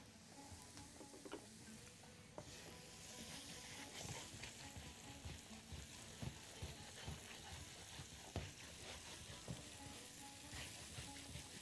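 Onions frying in the oil used earlier for chicken kofta, a steady close sizzle with occasional stirring clicks, continuous and fairly quiet.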